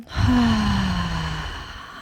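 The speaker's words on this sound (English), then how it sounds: "Breathing in and breathing out." A single long, audible breath out during a chair yoga session, sighing and voiced at first, then fading slowly into quiet.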